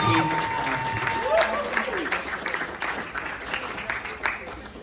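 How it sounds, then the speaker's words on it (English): Applause at a fundraising gala for kids, scattered clapping from a crowd with murmuring voices, moderately loud and fading toward the end. "let's get another round of applause"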